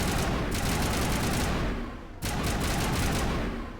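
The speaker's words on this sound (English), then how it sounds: "Let's do assault rifle next. It sounds less like explodey and a little bit more like, you know, lasery." Assault rifle firing in Mass Effect 1 Legendary Edition, a rapid, buzzy, laser-like automatic stream in two long bursts separated by a brief pause, loud and close.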